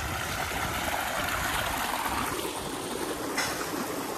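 Water runs steadily from a warm sulphur spring, a continuous close rushing and trickling wash at moderate volume, with no voices.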